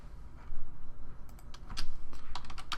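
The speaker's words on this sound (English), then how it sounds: "So I'm just typing here on an angle, so that's why I'm adding in all these extra characters that I was hitting." Computer keyboard typed on in irregular quick bursts of clicks while writing JavaScript code, close and clear over a low background hum, with no talking.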